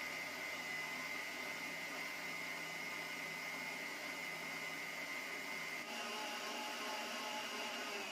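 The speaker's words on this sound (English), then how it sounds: "cream in the mixer and I'm going to just whip it" Electric mixer whipping cream for homemade Oreo ice cream, a steady continuous motor whir with a high whine that holds throughout, loud and close with no talking.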